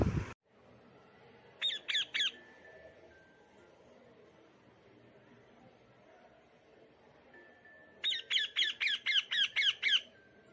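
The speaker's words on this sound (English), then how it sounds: "Squeaking, screeching, and talking are the sounds made by parrots." Parrots give two loud, close bursts of rapid, rhythmic screeching squawks, a short group of four followed later by a longer run of about nine harsh calls, with quiet pauses between.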